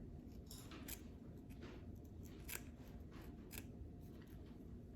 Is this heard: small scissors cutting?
yes